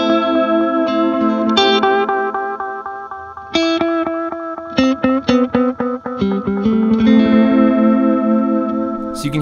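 Electric guitar played through an Echo Dream 2 delay pedal set for quick repeats, sustained chords and picked notes trailing short echoes, loud and alone.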